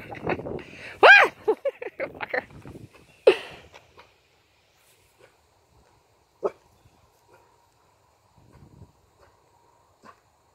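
A dog named Apollo yelping and whimpering indoors, a burst of high whines and short barks in the first few seconds, then a couple of faint isolated yips amid near silence, with people talking.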